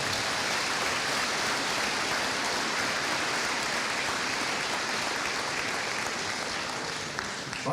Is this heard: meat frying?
no